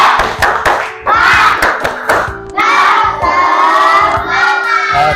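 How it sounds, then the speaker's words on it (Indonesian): Classroom students perform the tepuk semangat spirit clap: a loud, close burst of rhythmic group clapping with energetic chanting and shouting in unison, the claps landing in quick sequences. "Oke, tepuk semangat."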